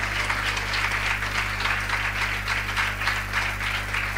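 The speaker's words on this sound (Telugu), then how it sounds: "గట్టిగా చప్పట్లు కొట్టి యేసుకి స్తోత్రం చెప్పండి." Congregation clapping at a church sermon, a dense, steady wash of applause that continues for the whole stretch over a constant low hum from the hall's sound system.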